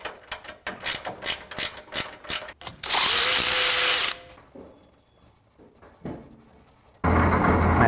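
A power drill bores mounting holes in a cooler for a NASCAR-powered 1955 Chevy, coming in several short bursts and then one longer loud run with pauses between.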